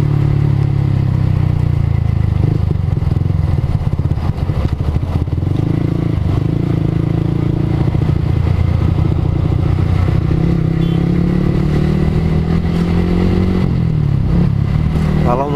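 Motorcycle with a loud open exhaust on a long holiday homecoming ride, a steady, throaty engine drone close by with small shifts in pitch as it cruises and accelerates.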